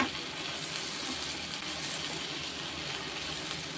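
Steady sizzle of chopped ivy gourd frying with masala in a pan on the stove, a continuous soft hiss without pause, close and moderately quiet.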